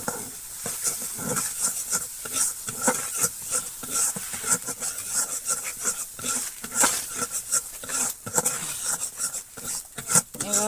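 Fish cooks in a pan with turmeric, chili powder and salt, giving a soft sizzle and a run of scraping and tapping stirring strokes, fairly faint and close.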